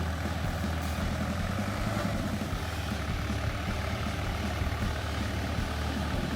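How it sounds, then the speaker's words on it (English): A tractor engine runs steadily through stunt driving, a continuous low rumbling drone that stays loud and fairly even with no voices. "here is a new tractor performance for you"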